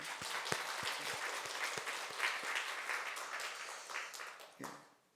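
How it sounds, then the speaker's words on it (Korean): A church congregation applauds at a New Year's Eve service, a dense patter of many hands clapping that is fairly faint and steady, with a few sharper claps standing out before it fades away at the end. "우리 하나님께 영광의 박수를 올려드립시다"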